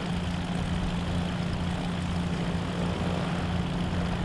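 A propeller plane engine in the video game DayZ drones steadily and loudly, a constant low hum with an even buzzing throb throughout.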